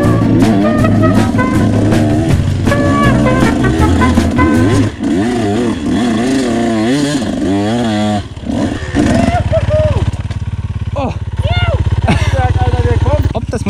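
Motocross motorcycle ridden at the MX Ajka track in Hungary, its engine loud and close, revving up and down in rising and falling sweeps, then dropping toward a rougher low idle near the end, with a rider talking over it.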